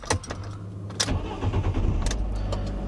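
A Fiat 500 being checked for an O2 sensor fault (code P0136) is started: a quick clicking crank catches and settles into a steady, close, low idle hum.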